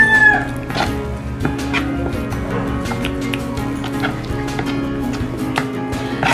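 Hens cluck and call over a dense, busy background of farmyard noise, with occasional sharp taps; no one speaks.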